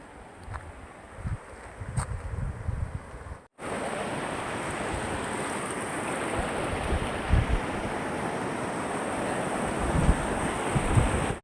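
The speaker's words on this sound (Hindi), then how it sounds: "यह ऐसी जगह पे नदी स्थापित है और पानी बह रहा है।" River water flowing past an ancient Buddhist temple site at Bhongapal, a steady broadband rush with wind buffeting the microphone, continuous and fairly loud after a brief break.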